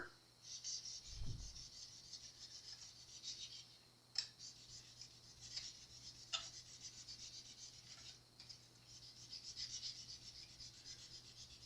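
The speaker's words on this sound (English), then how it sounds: "rubbing that fret kisser on both sides" A fret kisser file rasps steadily back and forth over a high guitar fret during spot levelling, a close, dry scraping with a few sharper clicks and knocks.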